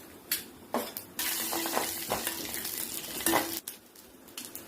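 Pepper and cumin roast in coconut oil in a pan, a soft sizzle broken by the scrape and clatter of a spoon stirring against the metal, close and fairly quiet with no talk.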